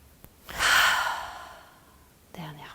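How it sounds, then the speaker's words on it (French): A deep breath during a morning yoga flow: a short intake, then a long, airy breath that swells and slowly fades, close to the microphone, followed by a brief voiced sound at the end. "Encore, inspirez."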